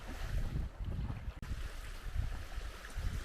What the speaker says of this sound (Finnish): Ja tuuli käy enemmän ja enemmän tähän suoraan kohti.